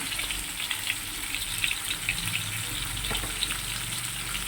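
Potatoes, taro and tomato fry in a pan, a moderate steady sizzle with faint bubbling crackles heard close, no voices present.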